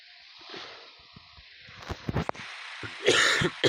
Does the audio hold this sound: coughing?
yes